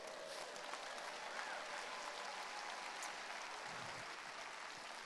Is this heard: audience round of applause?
yes